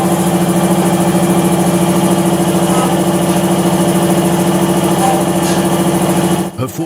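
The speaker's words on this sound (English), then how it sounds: "Herforder Diesel DNS stationary engine, preserved at Schießler Mühle, Germany." A preserved Herforder Diesel DNS, a large horizontal single-cylinder stationary diesel at a German mill, runs steadily with a continuous droning hum that holds level before a brief disturbance near the end.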